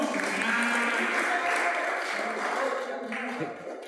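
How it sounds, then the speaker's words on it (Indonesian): An audience applauds at a church testimony event, steady dense clapping that holds throughout and eases off slightly near the end, with some voices mixed in. "Tepuk tangannya dong."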